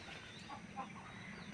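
Chickens clucking faintly in a farmyard pen shared with ducks, soft intermittent clucks under steady outdoor background noise.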